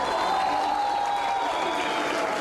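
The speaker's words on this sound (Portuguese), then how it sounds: "O goleiro entrou em campo acompanhado de crianças e foi aplaudido pelos torcedores" Football crowd in a Minas Gerais second-division stadium applauding a goalkeeper as he walks onto the pitch with children, a steady wash of clapping and crowd noise without pause.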